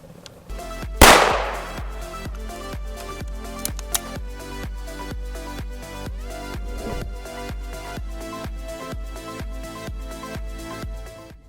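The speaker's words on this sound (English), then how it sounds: "Here was our pistol shot, and then here was our PDW." Shots from a 5.7x28mm pistol and an 8-inch PDW firing Hornady 40gr VMAX rounds: one sharp, loud report early, then a fainter second crack, over a steady rhythmic mechanical background.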